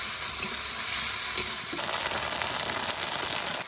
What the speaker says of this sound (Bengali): এবার আর একটু মশলাটা ভালো করে কষিয়ে নিই, তারপরে মাংস দেবো।